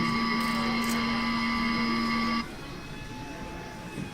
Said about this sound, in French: Regardez, le bossoir fait lever. Le bossoir, c'est la grue